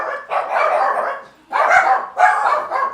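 Several dogs staying with a household while it is dog sitting bark and yap in three loud bursts separated by short pauses, close to the listener with no talking.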